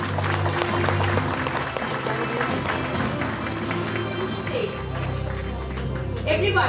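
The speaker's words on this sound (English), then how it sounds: "They deserve a thunderous round of applause" An audience at a school annual function applauds, a dense wash of clapping and crowd noise mixed with talking voices, fairly loud and continuous throughout.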